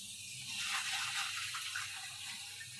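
Tap water pours steadily into a pot of mussels being prepared for cooking, a continuous close hissing splash lasting a few seconds with no voices.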